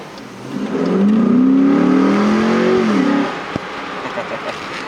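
A 5.7-litre Hemi V8 in a Dodge Durango R/T or Jeep Grand Cherokee SUV, fitted with a cold air intake, growls loudly as it accelerates hard, its pitch climbing for a few seconds before easing off.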